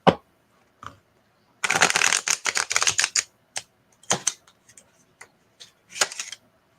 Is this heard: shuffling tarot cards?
yes